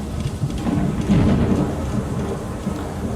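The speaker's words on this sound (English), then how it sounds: "Sun's out, but it's raining." Steady rain falls in the ruined streets of Fallout London, a dense, continuous hiss and patter with a low rumbling undertone, close and even throughout with no voices.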